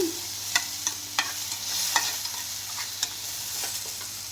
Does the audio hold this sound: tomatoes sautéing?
yes